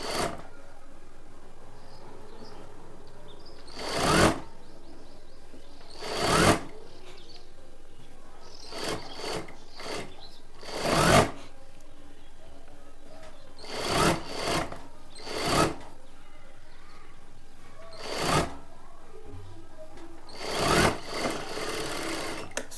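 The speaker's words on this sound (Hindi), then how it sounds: "इस पे हम एक डबल सिलाई और लगाएंगे" Short bursts from a sewing machine stitching a double seam on a plain blouse, each a sharp whirring run of a second or less, repeated about a dozen times with quiet pauses between, close and fairly loud.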